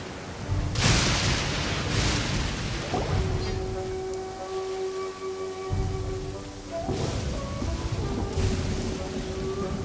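Steady rain pours in a video game thunderstorm, with several loud thunder cracks and rumbles breaking through, alongside soft tonal game sounds.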